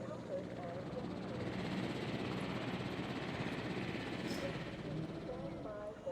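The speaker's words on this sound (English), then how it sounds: "stand by for helicopter arrival." In the park-building game Jurassic World Evolution, a helicopter arrives as a steady broadband rotor and engine rumble that holds at moderate level throughout.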